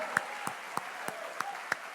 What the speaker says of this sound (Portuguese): Se você está aplaudindo a Deus pela honra de ser escolhido, aplauda de verdade.